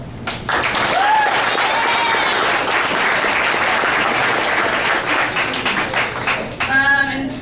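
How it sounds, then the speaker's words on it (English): A banquet audience applauds a college softball team celebrating conference success, with loud, sustained, even clapping filling the room for about seven seconds, and a few voices cheering near the end. "So you guys deserve a round of applause."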